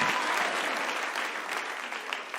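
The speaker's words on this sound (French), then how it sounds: "il faudra applaudissez pour le Seigneur" A church congregation breaks into sustained applause, a dense, loud clapping that carries on steadily and tapers slightly toward the end.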